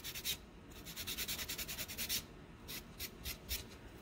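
Sandpaper or a file rubbing along the edge of EVA foam to round it, a quiet rhythmic rasping of quick back-and-forth strokes with a short pause midway.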